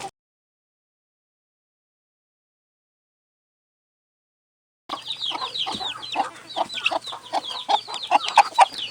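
Mother hens and chicks cluck and peep outside a coop: after a long stretch of near silence, a busy run of soft chirps and clucks rises, fairly close and steady.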